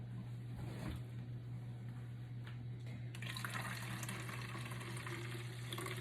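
Water runs steadily from a tap into a shake container, a continuous close-up rush with a faint hum under it that brightens and grows fuller partway through as the container fills.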